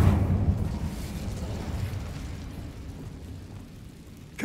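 A fire spell cast in the Hogwarts Legacy video game: a deep, rumbling burst of flame that dies down into a sustained low roar, with a second sharp pop at the very end.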